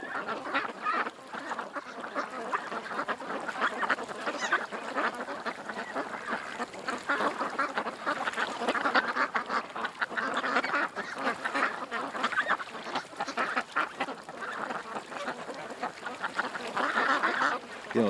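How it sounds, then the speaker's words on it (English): A group of ducklings quacks loudly and constantly from close by, a busy overlapping chorus of short calls with no pauses. "The little ducks. They're quacking away."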